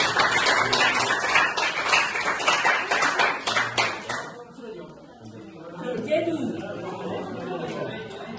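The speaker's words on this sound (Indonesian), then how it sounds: "Tepuk tangan yang meriah kelompok 1." A classroom gives group 1 a lively round of applause, dense clapping for about four seconds that fades into chatter and voices moving about the room.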